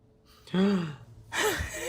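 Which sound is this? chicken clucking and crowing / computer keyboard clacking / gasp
gasp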